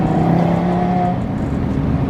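Audi RS3 with an FBO setup running an ethanol E70 tune, its engine accelerating with a steady, loud, near drone and rising tonal whine throughout, no voices heard.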